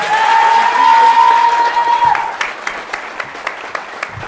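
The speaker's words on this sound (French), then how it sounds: "Alors ça s'applaudit quand même." An audience at a France Insoumise campaign meeting in Décines applauds loudly, a sustained burst of crowd clapping and cheering that thins into scattered individual claps.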